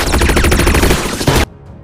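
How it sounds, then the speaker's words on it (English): Rapid automatic gunfire rattles loud and close in a sci-fi movie shootout, a dense burst of shots that cuts off abruptly into near silence. "Between the characters, there is a shootout, then a fight."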